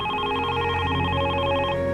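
A telephone rings steadily indoors in a quiet home, its repeating electronic tone continuous and fairly loud with no talking over it.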